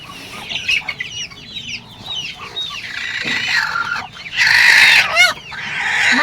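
Desi free-range hens kept in a pomegranate orchard cluck and squawk close by, a busy chorus of short calls rising to a louder burst of cackling near the end, with no speech.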